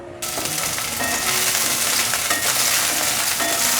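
Frozen chestnuts stir-fried in a wok with a little oil, a loud close sizzle that starts abruptly and continues steadily, with light scraping and tossing sounds.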